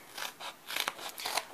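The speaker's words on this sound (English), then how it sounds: "then I take my Tim Holtz scissors and I just, hold on," Tim Holtz scissors trim around paper-covered stamp foam in a series of close, crisp snipping cuts that come in short bursts with brief pauses between them.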